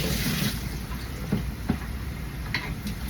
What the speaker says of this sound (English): And I'm going to start rinsing this